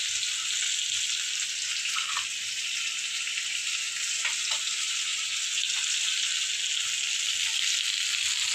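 Fish pieces fry in hot oil in a home kitchen, a loud, continuous close sizzle with a few faint crackles scattered through it and no voices.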